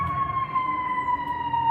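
An emergency vehicle siren wails outside in Chicago, a steady drawn-out tone at moderate distance over low traffic rumble, with no one talking.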